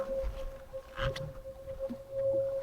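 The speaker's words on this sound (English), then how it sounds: "Oh, the tornado sirens are going off though." Distant tornado siren during a fishing tournament, a steady faint tone held throughout outdoors, with wind and water-like rumbles and a brief nearby noise over it.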